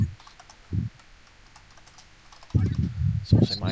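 Clicky typing on a computer keyboard comes in short bursts of keystrokes, close and fairly loud, with speech mixed in.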